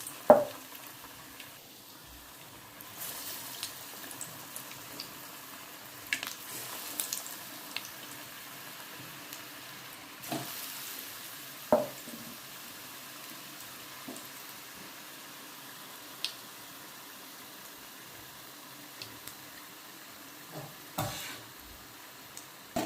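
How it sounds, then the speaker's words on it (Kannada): Vada pav batter balls deep-frying in hot oil, a steady low sizzle and bubbling running throughout with a few sharper clicks and splashes scattered across it, no talking. "ನೋಡಿರಿ ಈ ಥರ ಫ್ರೈ ಆಗುತ್ತೆ"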